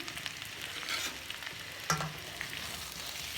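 Stuffed bitter gourds (karela) sizzle steadily in a pan over low heat, with soft scrapes from the stirring spoon and one brief clink, faint and close, without any voices.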